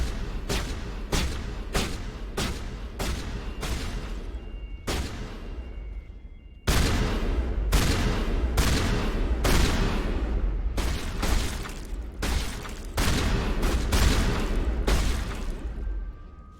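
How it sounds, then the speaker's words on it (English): Shotgun blasts in Mass Effect Legendary Edition, loud and close, a quick string of shots followed by a short pause and then another steady run of heavy booming reports, with almost no talking. "Shotgun!"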